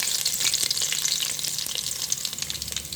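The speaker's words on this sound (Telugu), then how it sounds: "ఆయిల్ వేడైంది, ఎండుమిర్చి యాడ్ చేసుకుందాం." Dried red chillies, tempering spices, cumin and crushed garlic crackle in hot oil for sambar, making a dense, continuous close-up sizzle with no voices.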